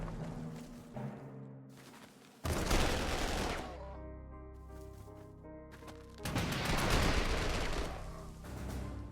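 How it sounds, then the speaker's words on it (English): Artillery in the strategy game Panzer Corps 2 trades fire in two long, loud barrages of dense, booming blasts, separated by quieter stretches of rumbling battle ambience and tonal game sound. "Artillery firing back and forth."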